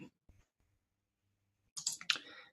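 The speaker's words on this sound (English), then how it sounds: "I'm clicking around, examining your site." A few sharp computer mouse clicks while browsing a website, faint soft taps early on followed by a louder cluster of quick clicks near the end, with no talking.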